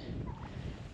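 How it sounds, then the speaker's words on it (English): Turkeys that have got loose gobble at breakfast time, a short faint warbling call set against a steady outdoor background. "I have escaped turkeys. They're ready for breakfast."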